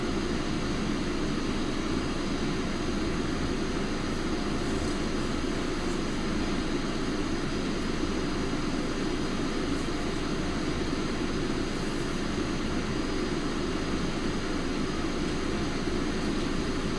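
An airplane taxiing and taking off, a steady, moderately loud engine drone with broad rushing noise that holds constant throughout, with no talk over it.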